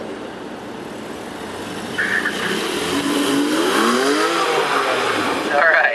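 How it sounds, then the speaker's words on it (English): Rear-wheel drive Porsche on a skid pad accelerating through a right-hand turn, engine revving up as the rear tires spin, with a person talking over the engine noise. "So we immediately get the rear tires spinning"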